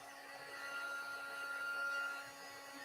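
An embossing heat gun blows steadily while it melts embossing powder for a watercolor faux linen technique. The whirring hum is close and fairly quiet, and it carries a thin whine that swells and then eases off near the end.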